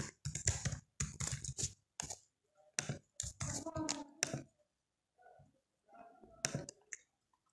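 Fingers type on a computer keyboard in quick bursts of clicky keystrokes separated by short pauses, close and fairly quiet, with a voice speaking in between.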